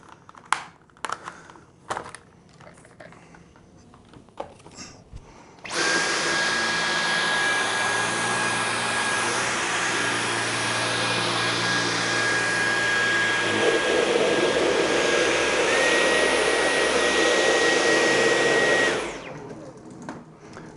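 A Dyson V11 cordless vacuum cleaner roars on boost mode for about thirteen seconds, a loud steady whine with a high tonal hum that drops in pitch partway through, preceded by a few handling clicks and ending abruptly.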